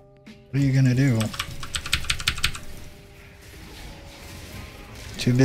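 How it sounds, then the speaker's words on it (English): Typing on a computer keyboard during a League of Legends match as Ziggs, with quick clicky keystroke bursts under a talking voice and game sounds. "Too busy typing."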